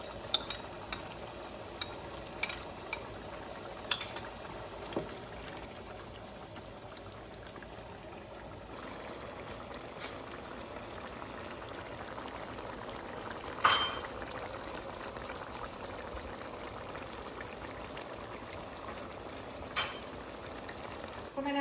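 Chicken karahi fries with yogurt in a pan, giving a faint, steady sizzle. Scattered clinks and scrapes of stirring break in now and then.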